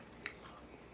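A single quiet crunchy bite into garlic bread, followed by faint close-up chewing.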